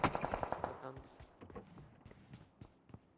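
Gunfire in the mobile battle-royale game PUBG Mobile: a quick burst of several loud, closely spaced shots at the start, then scattered fainter shots and footsteps, with players talking over it.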